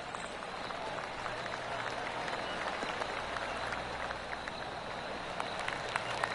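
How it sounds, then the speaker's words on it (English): Soft golf claps from a course gallery in PGA Tour 2K25 on PS5 patter steadily throughout, a faint, diffuse crowd applause spread across the whole stretch. "Oh, I can hear the golf claps around the course."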